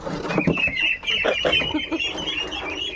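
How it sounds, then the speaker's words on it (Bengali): Ducklings herded into their shed on a village farm, with a busy, close chorus of clucking and quacking calls and some rustling throughout. "এই দেখুন আমাদের হাঁসের বাচ্চা অনেক বড় হয়েছে। এবার ঘরে ঢুকাই।"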